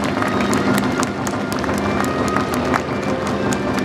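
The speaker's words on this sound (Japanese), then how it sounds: "受賞されましたお二人に温かい拍手をお送りください。" Dense, steady applause from a large audience fills a gymnasium at the Tokyo Metropolitan Gymnasium during a women's V.League volleyball final award ceremony, a continuous close wash of clapping with no pauses.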